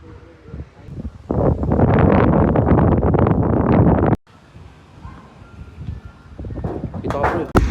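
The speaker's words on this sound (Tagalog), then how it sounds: "Grabe, lakas ng hangin. Lakas ng hangin guys." Strong wind buffets the microphone outdoors at a residential solar panel installation, a loud roaring rush for several seconds that cuts off abruptly, followed by quieter gusts and someone speaking.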